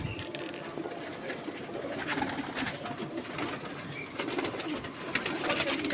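Low flyer pigeons kept at a home loft in Hyderabad, soft repeated cooing among general rustle and background ambience, moderately close and continuous without speech.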